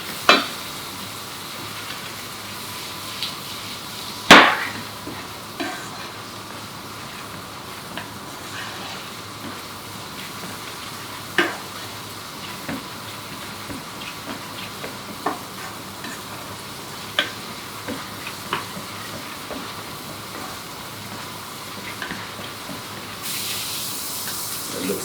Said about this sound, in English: just the onions sizzling away